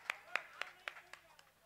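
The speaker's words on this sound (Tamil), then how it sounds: "இந்த முருகனுக்கு வந்திருக்கின்ற அத்தனை சாமிகள் ஒரு கைதட்டு கொடுங்க ஐயா." Scattered hand clapping from the audience at a Tamil village Karuppusamy dance performance, about seven sharp claps in an uneven rhythm that fades out, fairly close and alone.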